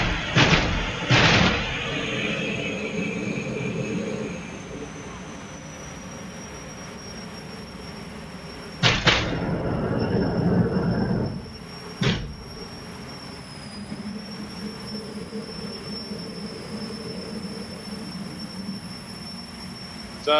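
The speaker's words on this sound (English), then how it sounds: "Roger doing a nice little flame show for us there." At the Festival of Power 2018, a jet car sits on the start line doing a flame show: a steady high-pitched turbine whine under a loud, rattling roar, with sharp blasts near the start and again midway.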